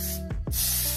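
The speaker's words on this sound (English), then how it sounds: "So I shake and I just spray just a little bit." Moroccanoil dry texture spray misted onto hair in one short close burst, a loud airy hiss that cuts off briefly and then resumes.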